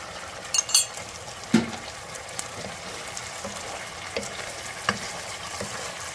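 A spoon stirs a cornstarch-thickened sauce in a hot pan, soft scraping strokes over a faint steady sizzle, with a few sharper clinks of utensil against the pan.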